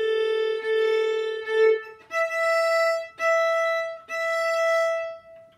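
Violin bowed on open strings for the Two Grenadiers exercise, several sustained bowed notes with clear breaks between strokes, played alone at moderate loudness.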